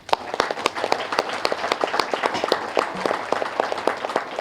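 Audience at a meditation event applauding for grand master Uma Mahesh, a smaller crowd of distinct, sharp hand claps in a lively uneven patter, close and steady throughout.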